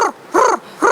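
A person imitates an owl's hoot with three loud, close, rounded hoots evenly spaced in about a second.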